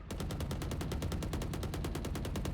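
Sustained automatic gunfire in a Rainbow Six Siege esports match, a rapid, evenly spaced burst of shots that runs without pause from start to finish, loud and close.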